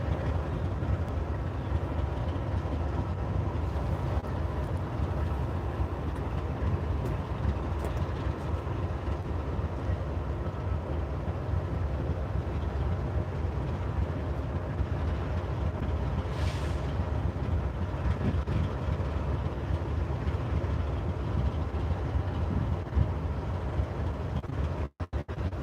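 A CSX freight train led by locomotive 829 rolls past a railroad crossing at Old Wauhatchie Pike, giving a steady, heavy rumble of wheels and wagons throughout, with some wind buffeting on the microphone.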